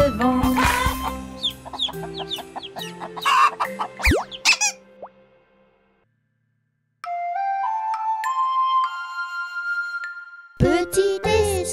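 Hens cluck and squawk in a French children's song about three hens going to the field, bursts of rooster-like calls and squeaky clucks, a silent gap, then sustained tones and more clucking.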